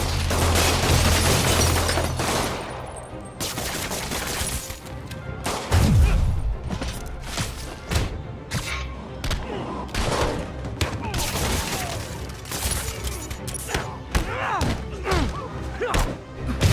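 Gunfire and heavy impacts in the Spider-Man PS4 video game, with bursts of shots and thuds coming in rapid uneven clusters, loud and busy, mixed with game sound effects and some shouting.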